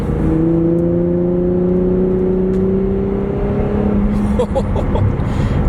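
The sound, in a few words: Infiniti Q60 Red Sport engine downshifting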